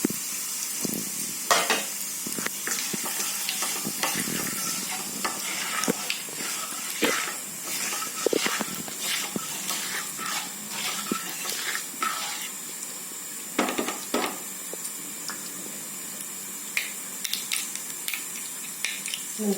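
Cumin seeds, ajwain and asafoetida sizzle and crackle in hot oil in a home kitchen, a steady close frying hiss punctuated by sharp pops and stirring clicks, with no talking.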